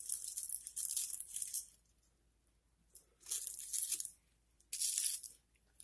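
Thin rolling paper for a hemp blend is handled and torn close by, making three separate bursts of crisp tearing and crinkling with quiet pauses between them.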